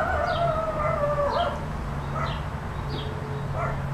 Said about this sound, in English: I hear that damn dog bark at me one more damn time